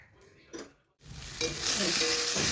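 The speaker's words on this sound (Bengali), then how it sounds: "তেল দিয়ে দিলাম, এবার সবজিটা ভাজবো।" Vegetables hit hot oil in a pan: a brief quiet clatter, a moment of silence, then a sizzle that swells into a loud, steady, close frying hiss that continues to the end, with no talking.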